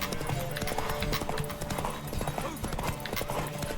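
A horse gallops in the video game The Witcher 3, its hooves pounding in a fast, steady clip-clop rhythm that runs loud and continuous throughout.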